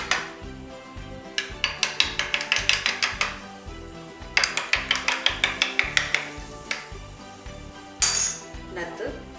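Salt being stirred into a glass of ginger sherbet with a spoon, giving bursts of rapid, rhythmic metallic clinks against the glass, repeated in two long runs and a short final flurry, with no talk.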